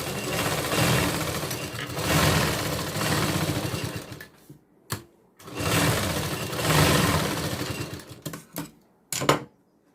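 A sewing machine stitching a dart on a blouse, two long bursts of fast steady whirring several seconds each, separated by pauses with a few short clicks and stops, close and loud.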